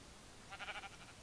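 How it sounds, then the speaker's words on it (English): A Minecraft sheep gives one short, faint bleat with a few wavering pulses over steady low background noise. "Sheep."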